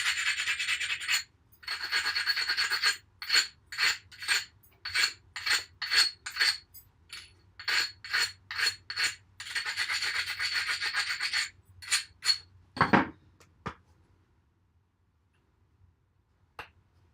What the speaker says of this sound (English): do a little grinding, a little trimming